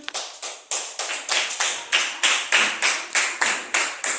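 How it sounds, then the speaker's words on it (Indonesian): A fifth-grade class claps in unison during a coding and AI lesson, about a dozen steady, evenly spaced rhythmic claps close by with no talking. "beri tepuk tangan"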